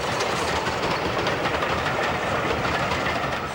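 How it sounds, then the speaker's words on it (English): A Swindon-built BR Standard 4 steam locomotive, restored to BR appearance, hauls an assorted rake of coaches including an ex-LNER catering vehicle; a steady, loud rumble of moving train and rolling stock fills the whole stretch without a pause. "The Swindon-built Standard 4, restored to its BR appearance, heads another assorted rake of coaches"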